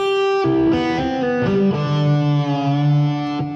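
Electric guitar solo from a song, notes played one string at a time with the previous string muted by the left first finger, giving clean, separated distorted notes in a steady melodic run.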